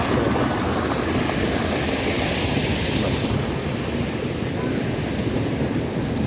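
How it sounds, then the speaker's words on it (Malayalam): Water pouring from a small check dam down toward the Cheeyappara waterfall, a loud, dense, continuous rushing roar that stays steady throughout with no talking. "ഈ വെള്ളം ഇങ്ങനെ താഴെട്ടാണ് വാട്ടർ ഫാൾസിലേക്ക് പോകുന്നത്."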